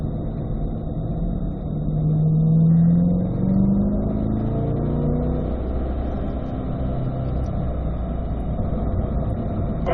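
A C8 mid-engine Corvette pulls hard down a racetrack straightaway, its engine note climbing steadily and staying loud and close throughout, with no talking.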